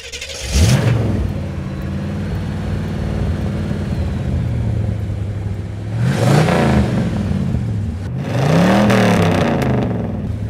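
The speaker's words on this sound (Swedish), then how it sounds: "Man hör virveln i tanken när man gasar sådär." A car engine idles with a steady low drone, then is revved three times in sharp throttle bursts that swell and fall back, loud and close with no one speaking.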